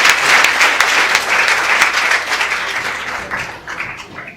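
An audience bursts into loud, dense applause to welcome poet Avnish Tripathi at a comedy poetry show, sustained clapping that gradually thins and fades over a few seconds.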